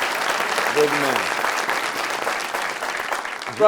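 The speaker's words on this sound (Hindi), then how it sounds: "उनके लिए तालियां बजा दें" A TV talk-show studio audience applauds continuously, a dense steady clapping with a brief tonal voice or note rising through it early on.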